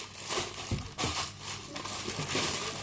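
Baking paper is crumpled and crinkled by hand to line a cake tin, producing close, continuous rustling and crackling with a few sharper crunches and no speech.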